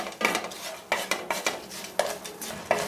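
Stuffed eggplant fry with dried coconut powder is stirred in a pan, giving a brisk, regular series of close scraping strokes over a soft sizzle.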